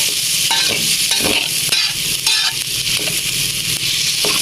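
Cucumber being stir-fried with egg and pork belly in a pan, loud continuous sizzling with repeated scraping stirs of a utensil at an irregular rhythm, close up and alone.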